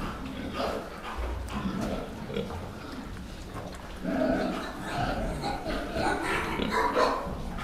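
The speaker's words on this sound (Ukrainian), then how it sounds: "Оттуда зі щелевих перевели сюди дві свинки." Two pigs grunt and snuffle in a pen, continuous low grunting up close, with a dog barking among it.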